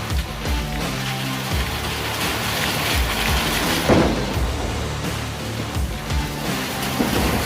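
Heavy hail and rain pound down during a thunderstorm, a dense, steady patter and hiss that fills the whole stretch at fairly close range, with no one talking.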